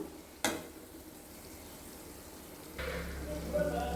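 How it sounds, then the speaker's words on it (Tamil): Grated coconut stirred in ghee in a pan sets up a low, steady sizzle, with one sharp scrape early on and the frying growing louder and brighter toward the end. "இப்போ கொஞ்சம் நல்லா இதில் நெய்யிலே கொஞ்சம் கிண்டி விடணும், நல்லா வதங்கணும்."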